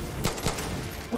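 A few sharp gunshots ring out from an incendiary gun that sets enemies on fire in Far Cry 6, spaced irregularly over a low game background.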